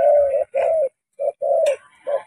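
A caged spotted dove coos close and loud in a series of short, rounded hoots with brief pauses between them, heard alone in a quiet setting.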